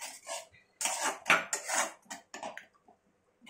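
Metal spoon scraping and clinking in a pan while stirring Kashmiri chilli spice paste into water for katla fish curry, in uneven bursts of close, moderately loud clatter with short pauses.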